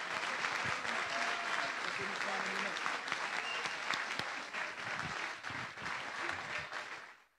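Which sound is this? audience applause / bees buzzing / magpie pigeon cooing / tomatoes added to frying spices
audience applause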